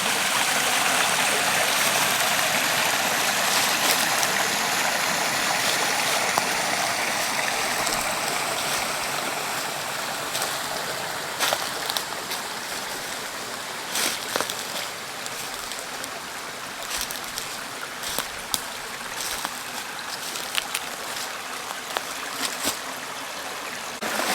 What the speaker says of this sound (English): Where the creek crosses under the old railroad bed going to the Colliery.